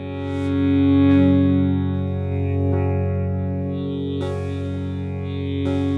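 A sustained Blofeld wavetable synth pad, rich in harmonics, drenched in distortion, chorus and echo, swelling and shimmering steadily with no voices.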